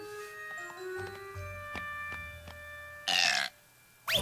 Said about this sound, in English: the babies need to be burped